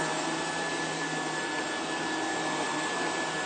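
A Rainbow water-filter vacuum cleaner runs steadily on carpet, giving a loud, even motor whine and airflow roar that stays unchanged throughout with no voices.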